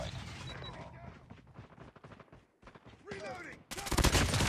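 HG40 submachine gun fire in the mobile shooter Call of Duty Mobile comes in rapid, loud bursts of shots, mixed with game effects and a player's excited voice talking over it.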